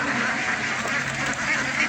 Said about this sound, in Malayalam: നമ്മൾ ഈ താറാവുകളൊക്കെ നമുക്ക് വിൽപ്പനയ്ക്കുള്ളതാണ്.